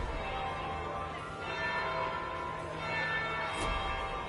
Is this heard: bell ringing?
yes